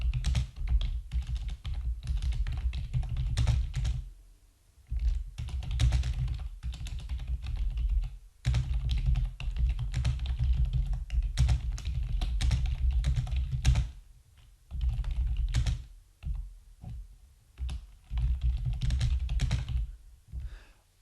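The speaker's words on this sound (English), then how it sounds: "Sorry, my typing is terrible." Typing on a computer keyboard, a close, fairly quiet run of uneven key clacks in bursts with short pauses between them, no talk.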